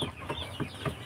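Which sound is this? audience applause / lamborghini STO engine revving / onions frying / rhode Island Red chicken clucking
rhode Island Red chicken clucking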